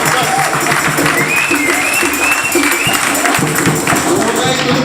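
A church congregation applauding at a Sunday worship service, a sustained burst of clapping mixed with cheering voices and a crowd murmur, loud and continuous from start to finish.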